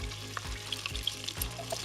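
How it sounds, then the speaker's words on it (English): Small chunks of walleye sizzling in a very hot pan over high heat for Thai walleye soup, a busy crackling fry with a few louder bursts as pieces are stirred, close and with no talk. "That's exactly what you want to hear, is all that sizzling."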